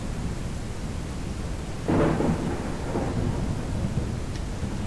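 Steady rain with a deep roll of thunder swelling in the middle and fading out, no voices, in the video game Ranch Simulator.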